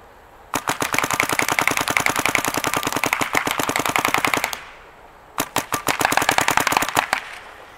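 A Dye DSR paintball marker fires in NXL mode, two rapid bursts of sharp, evenly spaced shots, loud and close, with a brief pause between the long first string and the second.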